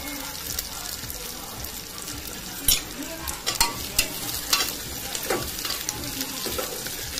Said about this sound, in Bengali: তেল গরম হয়ে গেছে, এবার আমি এক এক করে সবজিগুলো দিয়ে দেবো